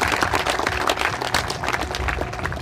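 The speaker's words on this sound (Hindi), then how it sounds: "भरपूर तालियां कीजिएगा जी अपने लिए।" A college audience applauds at The Leader College of Sciences, with dense, continuous clapping from many hands that stays steady and fairly loud throughout.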